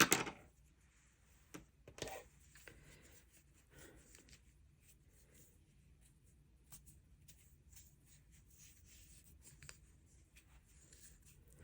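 Scissors snip crochet yarn ends, giving a few quiet, close, crisp cuts near the start amid faint handling rustles.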